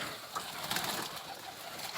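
Caught pigeons or doves kept on a rooftop, cooing softly and continuously at close range over a steady wash of outdoor background noise, with no voices.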